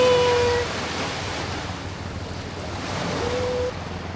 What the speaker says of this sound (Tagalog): So tapat lang talaga nila yung dagat.